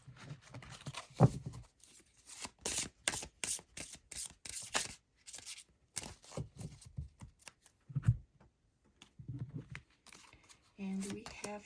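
Beltane oracle cards shuffled by hand, a run of quick riffling bursts that rise and pause and then rise again, close and moderately loud, with no voice over them.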